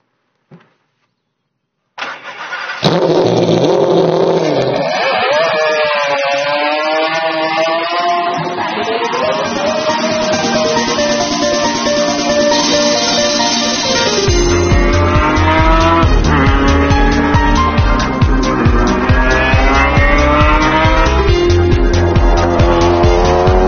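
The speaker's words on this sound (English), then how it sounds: "Right beside me is a V12 6-litre BMW engine made specially for this car." An unsilenced, specially built BMW 6-litre V12 in a supercar of nearly 650 horsepower barks into life and then revs repeatedly, its loud, raw roar sweeping up and down in pitch close by.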